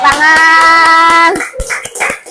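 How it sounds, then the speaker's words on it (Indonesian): Children clap hands in a rhythmic classroom clapping game, a quick run of sharp, close claps over a sustained sung or chanted voice, followed by a few looser claps and voices. "tepuk satu, tepuk satu, tepuk dua"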